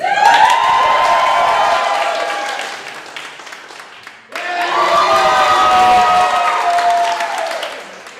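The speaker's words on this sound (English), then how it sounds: "Now this is your cheering session." A vaudeville theatre audience cheering and applauding in two loud swells, the first fading out before the second erupts after a brief pause, with whoops and shouts mixed into the clapping.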